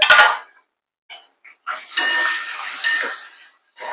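A metal lid clatters onto a cooking pan of simmering vegetable gravy over low gas, a sharp clinking rattle at the start followed by a few soft knocks and a longer scraping, ringing stretch close by.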